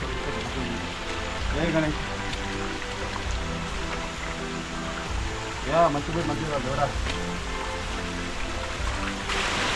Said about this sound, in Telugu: స్టేర్కేస్ వాటర్ ఫాల్స్